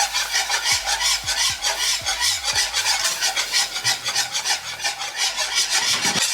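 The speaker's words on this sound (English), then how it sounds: "now we're gonna slowly add in a little bit of our evaporated milk, just a little bit at a time, and then keep whisking" A whisk scrapes rhythmically around a pan as evaporated milk is worked into a roux, fast repeated rasping strokes running nonstop and up close.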